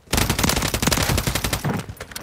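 Rapid automatic gunfire in Call of Duty rattles close and loud in a dense burst of closely spaced shots, sustained for a couple of seconds with no talking.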